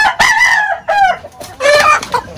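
Heritage chickens kept beside a house cluck loudly and close, with a rooster's crow rising among the calls in a short burst.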